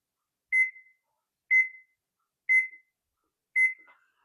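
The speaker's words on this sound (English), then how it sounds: "we're going to set the timer for, I'm going to start out at 35 minutes." A kitchen timer is set for a casserole and sounds four clear, identical electronic beeps at an even one-second rhythm, loud and close, with silence between them and no talking.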